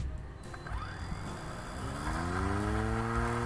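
A homemade car-like invention with its engine revving, rising in pitch and getting louder as it speeds up, heard fairly close and alone.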